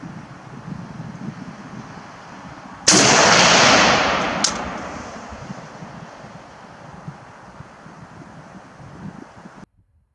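A single sharp shot from a Valmet M76 rifle cracks outdoors, then trails into a decaying echo over steady wind noise; a second faint crack follows soon after.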